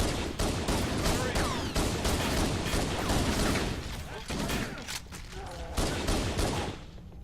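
Sustained gunfire rattles through a battle in Halo: The Master Chief Collection, dense rapid shots and bursts layered over one another, loud and continuous throughout with brief dips in intensity.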